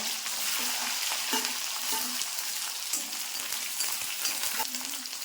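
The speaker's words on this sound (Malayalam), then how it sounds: "നമുക്കിതിലേക്ക് ഉള്ളി ഇട്ട് കൊടുക്കാം" Onions frying in hot oil for an onion and chili chutney, a continuous close sizzle with occasional soft stirring scrapes and no voices.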